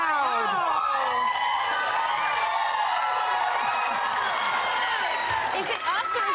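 A TV talk-show studio audience cheering and whooping loudly, with shrill rising shouts and scattered clapping that hold steady throughout, with voices mixed into the din.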